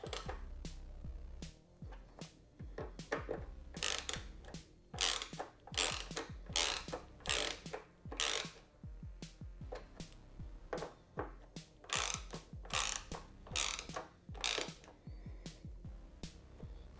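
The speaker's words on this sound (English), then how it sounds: "finally we'll use a ratchet to tighten these guys up" A ratchet tightens the SW-Motech tank bag mounting bolts on a BMW F750GS/F850GS motorcycle, giving bursts of close, crisp ratcheting clicks with short pauses between strokes and no talk.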